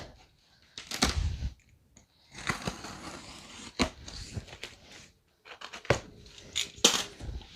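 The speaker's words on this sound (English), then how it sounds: "I'm going to try to be careful with my box cutter to not cut whatever it is." A box cutter slices open a cardboard box, giving scraping, tearing cuts in several short close bursts separated by brief pauses, with no talking.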